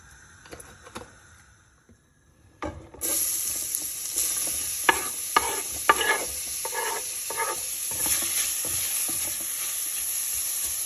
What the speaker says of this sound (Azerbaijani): Kökümüzü 2 dəqiqə kimi yağda qovururuq